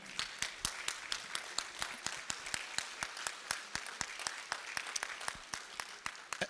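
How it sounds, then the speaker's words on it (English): At an interfaith Ramadan dinner in Memphis, a round of applause rises for a rabbi, with distinct sharp individual claps standing out over a softer wash, fairly distant and quiet. "A round of applause for my friend."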